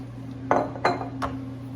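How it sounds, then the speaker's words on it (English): Cherry dessert mixture spread into a 9 by 13 pan, heard as three quick clinks of a utensil against the dish over a low steady hum, close and distinct, with no voices. "Now I'm gonna put it in a 9 by 13 pan and I'm gonna spread it out"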